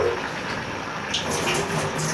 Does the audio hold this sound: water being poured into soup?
yes